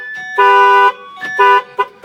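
A car alarm blares in loud, repeating electronic honks, with long and short tones in an uneven pattern, close and alone, in Miami.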